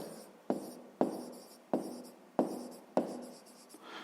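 Pen or pencil writing by hand on paper during a fifth-grade maths exercise, five sharp strokes at regular half-second intervals, each tapering off in a scratchy trail, close and fairly quiet with no talk.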